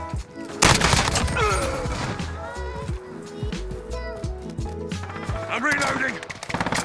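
FAL rifle firing in Modern Warfare, loud bursts of close gunfire and rapid shots through most of the stretch, mixed with game music, effects and a player's voice talking.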